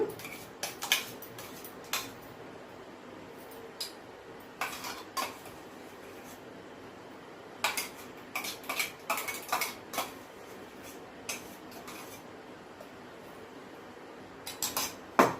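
Mango kulfi mixture being stirred in a bowl, a spoon clinking and scraping against the sides in irregular bursts of taps and knocks, close and fairly quiet, with no talk.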